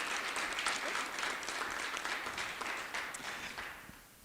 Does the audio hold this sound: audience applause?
yes